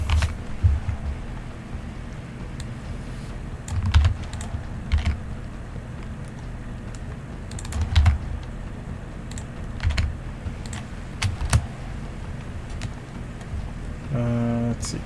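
Computer keyboard typing during a Pokémon draft league battle session, with steady clicking keystrokes and periodic louder bursts of quick taps, fairly close, over a low background hum.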